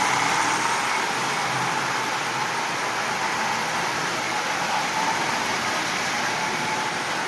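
A Marx 1998 toy train locomotive runs along its track hauling about sixteen Lionel cars fitted with coupler adapters, giving off a steady, even whirring hiss that stays constant throughout.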